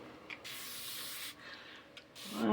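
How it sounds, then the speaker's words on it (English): Water is sprayed onto a painting surface in two close, breathy hissing bursts, the first longer than the second, with soft taps and a brief rustle at the end. "just spray this with water"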